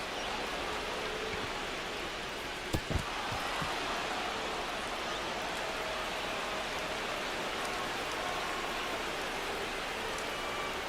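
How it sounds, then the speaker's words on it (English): Steady broadband rain hiss fills the whole stretch in a baseball game of MLB The Show, Nationals at Red Sox, constant and even with one brief knock partway through, no voices. "The rain is here, and it doesn't look like it's going away anytime soon"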